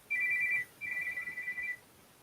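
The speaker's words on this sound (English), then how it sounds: "I don't know why I'm getting phone calls here." A phone ringtone chirps for an incoming call in two short electronic bursts, the second longer, fairly clear over a quiet background.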